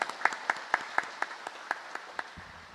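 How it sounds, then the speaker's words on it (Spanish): Congregation in a church basilica breaking into a burst of applause for a children's day celebration, a lively mix of many hands clapping at once, fairly close and sustained before tapering off near the end. "Yo creo que se merece un fuerte aplauso por el Día de los Niños en Paraguay."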